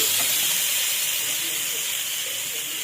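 Green chilies sizzle in a hot pan, a steady bright hiss of frying oil that holds evenly for a few seconds with no other sound.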